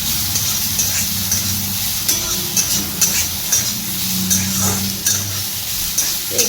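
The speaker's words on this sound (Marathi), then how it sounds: "आणि ते कढईमध्ये मी ते टाकलं होतं, 2-3 थेंब तूप टाकलं होतं" Sprouted moong beans frying in a few drops of ghee in a kadhai, a steady close sizzle with soft stirring scrapes and light taps of a utensil against the pan throughout.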